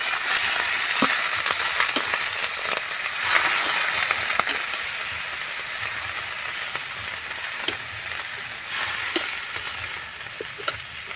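Chopped cabbage sautéing in a hot pan with garlic and onion, a steady bright sizzle throughout with occasional stirring clicks and scrapes, close and continuous with no talk.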